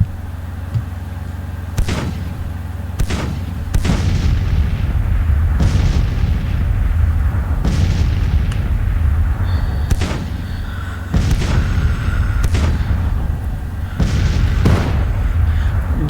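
Civil War artillery batteries firing in the strategy game Grand Tactician at the Battle of Winchester, a series of deep booming cannon shots at irregular intervals, some near and some distant, over a low battlefield rumble.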